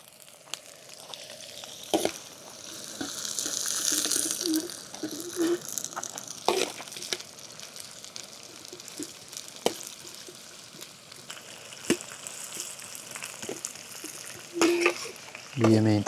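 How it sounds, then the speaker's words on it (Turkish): Food sizzles in a saç pan over a camping gas burner beside Boraboy Lake, a steady frying hiss broken by scraping and clatter of utensils, with brief speech and outdoor noise nearby. "Doğaya kaçtıkça tüm Türk halkı gibi biz de böyle saç tava yapıyoruz"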